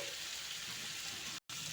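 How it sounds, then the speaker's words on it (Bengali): Potatoes fry in oil in a pan for Bengali vegetarian ghugni, giving a steady, close hiss of sizzling that fills the whole moment, with one very brief break and no voices. "দেখো এরকমভাবে ভেজে নেব একটু আলুটা"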